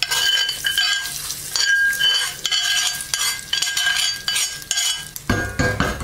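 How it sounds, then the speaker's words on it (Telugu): A spoon stirs a hot tempering of cumin and curry leaves into tomato chutney, with rhythmic scraping and clinks against the pot over a bright sizzle, close and steady, ending in a louder crackling burst. "ఇప్పుడు ఈ తాలింపు అంతా కూడా పచ్చళ్ళలో వేసి కలుపుకుందాం"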